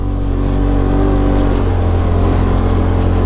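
Polaris RZR XP Turbo side-by-side on Maxxis Rampage 32-inch tires climbing uphill, its engine droning loud and steady throughout with a constant low rumble, close up and without talk.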